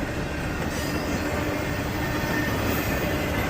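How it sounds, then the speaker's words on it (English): Long freight trains roll past in Danville, a loud, steady rumble of railcars and wheels on track with faint squeal, continuous and close throughout. "it took over 4 minutes for these trains to fully pass"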